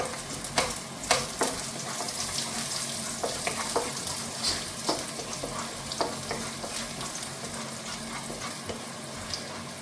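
Garlic fries in hot oil, a steady close sizzle with scattered crackles and repeated stirring scrapes throughout, with no speech.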